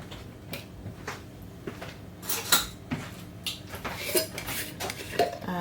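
Spoon or whisk clinks and scrapes against a bowl while sugar is mixed into warm water, giving irregular close taps of utensil on dish with no talking.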